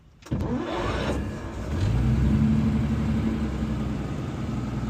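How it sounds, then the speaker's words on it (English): A 1930 Maybach car's loud electric starter whirs briefly before the engine catches and fires. It then runs up into a steady, close, rising engine roar with no voices over it. "That starter is so loud."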